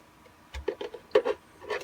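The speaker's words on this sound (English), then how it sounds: "I'm just going to trim" Trimming excess material from a plastic armor piece for a Shadow Trooper costume build, a few short, close rubbing and scraping cuts in quick bursts, fairly quiet, with no talk.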